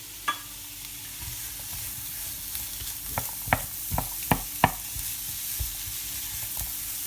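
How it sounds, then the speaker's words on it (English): Onions and mushrooms sizzle in a frying pan with a steady hiss, punctuated by a run of sharp utensil scrapes and knocks from stirring, close by. "it's all sizzling away."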